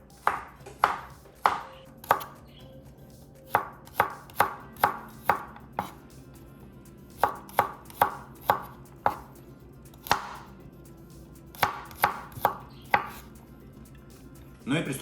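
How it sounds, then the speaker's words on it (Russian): A knife coarsely chops garlic steadily on a cutting board, sharp evenly spaced taps with brief pauses between runs, close and clear with no talking. "Чеснок не давлю, а просто достаточно крупно нарезаю."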